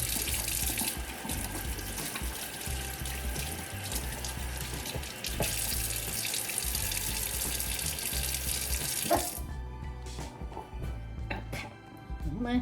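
Tap water runs steadily into a kitchen sink during handwashing, a close, continuous hiss and splash that cuts off near the end.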